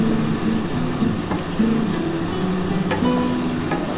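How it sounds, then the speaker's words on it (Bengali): Bottle gourd and potatoes sautéing with spices in a pan, a steady, close sizzling hiss that runs throughout with faint stirring scrapes and no talking. "খুব ভালো করে কিন্তু মশলাটা লাউ আর আলুটাকে কষাতে হবে"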